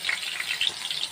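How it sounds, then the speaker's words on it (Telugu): Bitter gourd frying in oil in a pan, a short, steady, fairly loud sizzling hiss with no talk. "గోల్డెన్ బ్రౌన్ కలర్ వచ్చే వరకు వేయించుకోవాలి"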